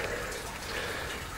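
Water from a 110mm hydroponic tower system used for growing tomatoes trickles and splashes steadily, a continuous close wash of running liquid with no talk.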